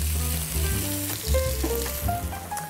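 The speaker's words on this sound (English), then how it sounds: "Love that noise, almost a delicious sizzle." Crushed ginger and garlic sizzle loudly with onions in a hot pan, a dense, close crackle of frying with faint stirring clatter and no talking.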